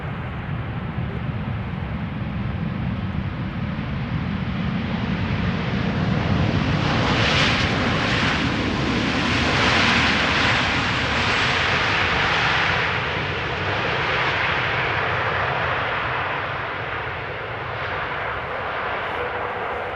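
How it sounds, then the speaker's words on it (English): A KLM Boeing 787-10 Dreamliner arrives at Amsterdam Schiphol from Panama City, a loud rushing jet roar that builds to a peak midway and then slowly fades. "This is a KLM flight 758, Boeing 787-10 Dreamliner arriving from Panama City."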